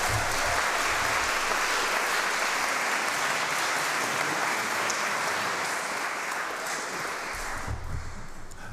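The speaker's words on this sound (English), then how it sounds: "Let's put a round of applause for him." A lecture audience at a church applauds continuously in thanks, a broad wash of clapping holding steady for several seconds and thinning slightly near the end.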